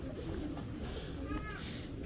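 Racing pigeons give soft, low cooing, a few short throaty coos in quick succession, close by and fairly faint, with someone talking over the birds.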